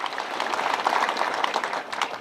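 Mourners at a burial gathering in Muhiko clap together, a short burst of scattered, moderately loud hand claps that swells and then trails off.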